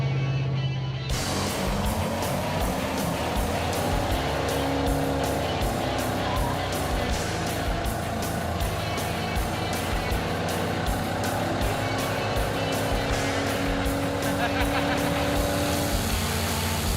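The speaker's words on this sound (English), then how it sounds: "Or a proper burnout." A Camaro, the Roadkill Super Camaro, holds a long, continuous roar from its engine with steady squealing tire noise, loud and close after a short quieter opening; voices are faintly present.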